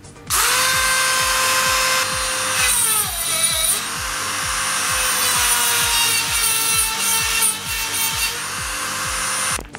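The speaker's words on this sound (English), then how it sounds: "I'm gonna use a Dremel and softly grind some of the holes that need to be grinded so that it will fit the Recaros perfectly." A Dremel rotary tool grinds holes in metal seat brackets for Recaro seats, a loud continuous high whine with a rapid rattling pulse underneath, running close and steady for most of the span.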